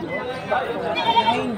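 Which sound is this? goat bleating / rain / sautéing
goat bleating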